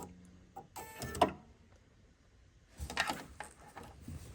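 A sewing machine fitted with a freehand embroidery foot stitches down a quilt in two short bursts of close mechanical whirring, separated by a quieter pause, with no talking.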